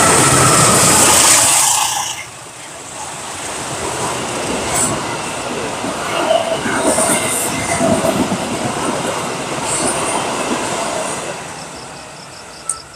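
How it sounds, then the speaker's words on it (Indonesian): A train rumbles past on a nearby railway line, loud at first, then settling into a steady, rattling roll of wheels and carriages with clicking joints and faint squeals, fading slightly at the end. "pas ngobrol ada kereta,"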